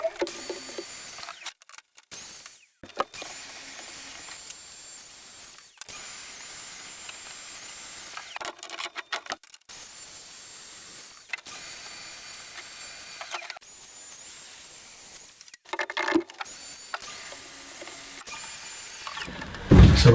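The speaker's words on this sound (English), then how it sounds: "The domino makes short but repetitive work of this otherwise dull but important task." A Domino joiner cutting mortises in wardrobe carcass panels, repeated short bursts of high whining machine noise separated by quieter gaps and clicks, close and without talk.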